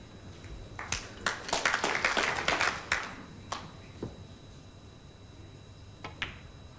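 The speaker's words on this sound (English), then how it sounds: "Wait for the applause." A snooker audience applauds a century break with a short burst of crisp, scattered handclaps that thins into a few isolated claps, with quiet stretches and a faint steady tone in the background.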